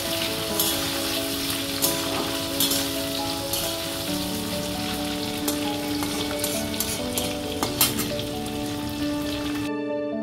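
Chopped ginger and two tomatoes frying in a pan for a kofta curry, giving a dense, continuous crackling sizzle with scattered pops and spatters, close and steady without speech, cutting off abruptly at the end.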